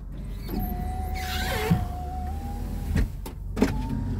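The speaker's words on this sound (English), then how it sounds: "Rear windows work as well." Rear power windows on a 2011 Mitsubishi Eclipse Spyder whir as their motors run, a steady electric hum with sharp clunks as the glass stops, heard up close over a low idle with no talking.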